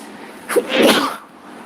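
A single loud sneeze close by, with a short intake and then a sharp burst, followed by quiet; no talking.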